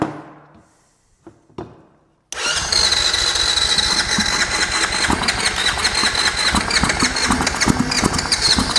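A Honda ATV engine cranks with a couple of faint turns, then catches and runs into a loud, steady idle with a rough, pulsing chug, close up and without talk.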